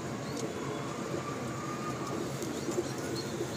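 Pigeons in a loft coo softly within a dense, steady background murmur of many birds.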